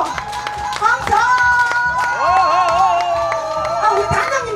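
An audience at a live performance claps in scattered, rapid bursts beneath loud overlapping voices and talk, with a lively crowd atmosphere throughout.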